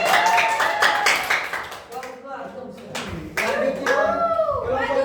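Students in a classroom clap their hands in a brisk run of rapid claps lasting a few seconds, with voices and chatter from the room mixed underneath.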